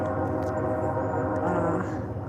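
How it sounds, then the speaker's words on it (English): A train rolls past close to a lakeside bench, giving a loud, steady rumble with a dense mechanical drone that holds at the same level for the whole stretch. "The train's pretty loud."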